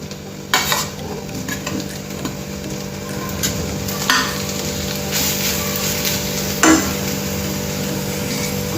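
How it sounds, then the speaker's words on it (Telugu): Freshly ground coconut roasts in a pan over medium flame for coconut laddu, a constant close hiss broken by a few metallic spoon scrapes and knocks as it is stirred. "ఇప్పుడు గ్రైండ్ చేసుకున్న కొబ్బరి కూడా మనం వేయించుకోవాలి."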